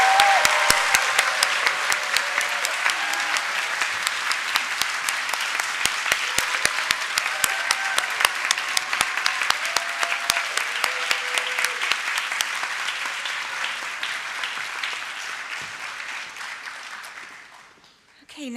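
Parents and audience applauding graduates at a grade 5 promotion ceremony, a long sustained roar of dense clapping with scattered voices, steady and loud before tapering off at the end.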